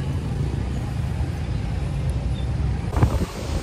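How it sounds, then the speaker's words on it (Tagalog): Strong wind roars steadily across the microphone outside a church in Iloilo, Philippines, a constant low rumbling buffet with a brief thump near the end. "Kita nyo, lakas ng hangin dito."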